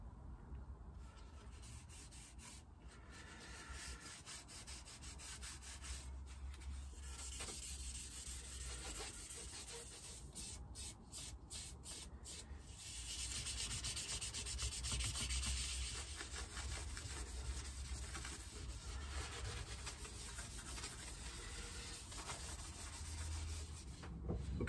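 Penetrating oil is rubbed into a wooden surface by hand, making a long, steady rubbing and scrubbing sound with rhythmic strokes and a few brief pauses, close and fairly quiet.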